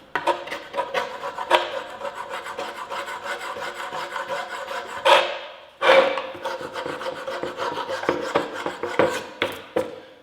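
Scraper rasping repeatedly across a primer-painted test panel, close and loud, a rapid series of rough strokes with two brief pauses midway.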